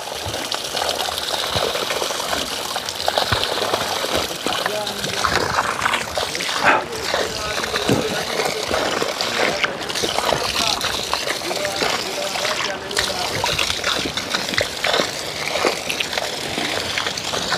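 Continuous splashing and sloshing water outdoors in Jamaica with occasional louder bursts, steady throughout, with voices talking over it.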